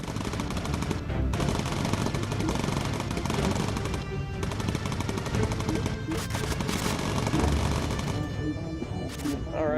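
In Bomber Crew, bomber gunners fire machine guns almost nonstop for about ten seconds, a dense, hammering clatter with brief lulls, layered over busy game sounds at a constant level.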